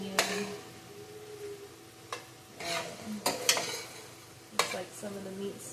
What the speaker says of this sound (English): And then I'm gonna stir in my celery and onion.